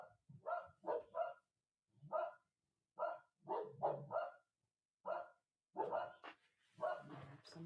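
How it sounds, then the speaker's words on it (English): Several dogs barking in repeated short bursts and clusters at a moderate distance, with pauses between volleys and a faint voice near the end. "Nope, they're just barking for no reason."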